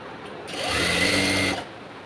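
A sewing machine runs steadily for about a second while stitching a cigarette pant, with a smooth whirring hum that starts and stops cleanly in a quiet room.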